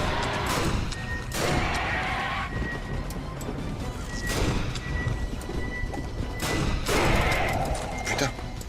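Gunfire in the video game Alien vs Predator: bursts of loud, sharp shots in several clusters amid crashing game noise, with someone talking over it.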